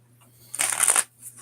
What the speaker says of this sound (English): That was a decent shuffle.